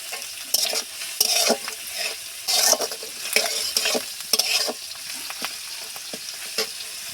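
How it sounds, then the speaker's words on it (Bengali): Masala being stir-fried in a pan for an egg and banana curry: a close, bright sizzle with repeated sharp spatula scrapes and stirring strokes in an irregular rhythm, and no voices. "আমি এইভাবে ভালো করে কষিয়ে নিয়েছি"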